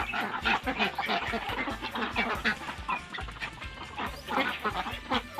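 A flock of ducks quacks and chatters continuously nearby, many overlapping calls with no talking.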